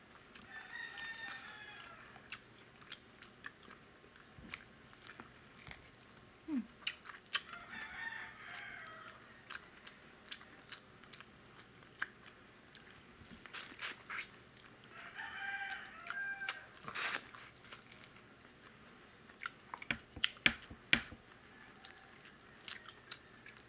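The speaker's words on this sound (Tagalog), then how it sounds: "Kaya madaming manok na tumitilaok ngayon." Several roosters crow around dawn at almost 6 AM, the calls sounding moderately distant and spread across the stretch, with chewing and eating noises close by in between.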